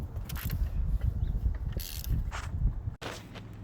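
Clicking ratchet and metallic creaks from a wrench setup breaking a bolt loose on the alternator of a 2001 Nissan Maxima, close and moderately quiet with a sharp knock near the end.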